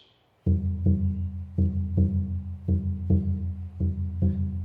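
Low, booming hand drum beats in a regular paired rhythm, like a heartbeat, resonant and close, continuing for several seconds without talk.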